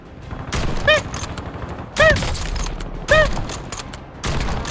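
Video-game gunfire hitting an enemy in a shooter, sounding as three loud, dense bursts about a second apart, each topped with a ringing, chime-like hit tone over steady background game noise.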